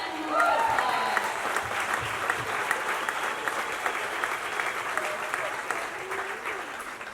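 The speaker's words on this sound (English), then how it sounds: "give her one more applause." Sustained applause from a gala audience fills the hall for several seconds at steady strength, with a faint voice briefly audible over the clapping.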